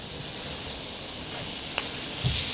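Souvlaki cooking on a hot, lightly oiled food-truck grill set to about 200 degrees, giving a steady, close broadband sizzle and hiss with a brief sharper crackle partway through and no talking.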